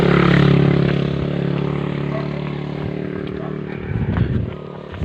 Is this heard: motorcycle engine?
yes